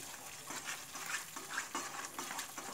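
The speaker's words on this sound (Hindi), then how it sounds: "इसे अच्छे से मिलाएंगे। कंटिन्यूसली मिलाएंगे ताकि दही फट ना जाए।" Whisked yogurt is stirred steadily into dum aloo curry in a pan, with a close, rhythmic scraping of the spoon and a soft sizzle underneath.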